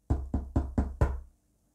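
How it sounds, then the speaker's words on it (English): Five sharp knocks on a small, narrow red door in quick, even succession, close and clear, with a short ring after the last one before silence. "Mr. Happy knocked on the door."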